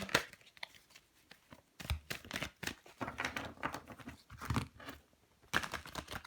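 Repeated riffling bursts of tarot cards being shuffled, crisp papery rattles in short rhythmic runs separated by brief pauses, close and fairly quiet.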